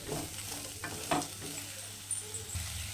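Onion, garlic, ginger and green chillies sautéing in a pan, a steady close sizzle with a few scraping stirs of the spoon, no voices.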